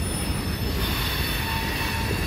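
A CN freight train rolls steadily past with its locomotives up front, a continuous broadband rumble of rail cars and wheels with faint squealing, close and loud throughout with no speech.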